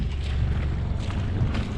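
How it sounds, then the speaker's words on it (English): Sailboat engine idling in neutral on a night sail in the Mediterranean, a steady low rumble blended with wind noise and water, continuous and fairly close with no talking. "The engine's just on neutral because it's charging my phone."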